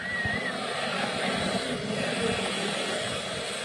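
A steady, loud roar of SpaceX Falcon 9 first-stage Merlin rocket engines during a crewed launch fills the whole clip, broad and rumbling with no breaks, heard from a distance.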